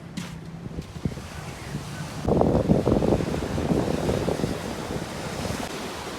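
Sea waves break and wash onto the shore at Salalah, with a surge of surf building after a quieter start. Wind buffets the microphone throughout, and there is a faint murmur of voices.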